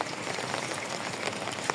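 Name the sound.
heavy downpour of rain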